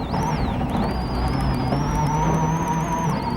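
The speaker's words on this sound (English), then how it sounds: "Marco Martin and Michael Park now in the Ford Focus." A Ford Focus WRC rally car races at speed on a rally stage in Great Britain, its engine howling loud and close with rising and falling revs, gear changes and gravel and tyre noise beneath.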